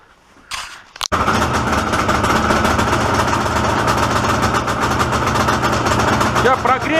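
Engine of an Izh Jupiter 5 motorcycle idling loudly and steadily while warming up after starting, apparently running on only one cylinder; a short clatter comes before it catches, and the rough, pulsing idle then holds close up with no talk.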